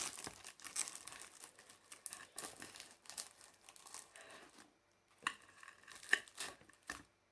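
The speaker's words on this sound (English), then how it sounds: "As you might have heard, the puff pastry is quite crispy." Baked puff pastry apple turnovers are broken open by hand, giving close, crisp crackles and flaky crunches in irregular bursts with brief pauses between them and no talking.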